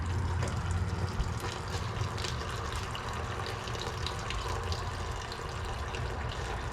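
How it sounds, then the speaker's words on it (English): Old fluid pours steadily from the opened rear differential of a Ford Explorer, making a continuous, close, even liquid trickle with no talking. "Let that finish draining out and we'll be back."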